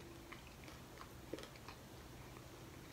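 Someone eats cheese fries from Texas Roadhouse at close range, producing a few soft, sparse chewing and biting sounds over a quiet, steady low hum, with one slightly sharper crunch in the middle.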